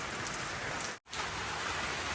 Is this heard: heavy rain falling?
yes